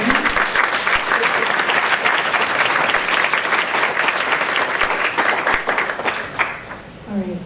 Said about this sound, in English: Could we just have another round of applause for someone so inspiring?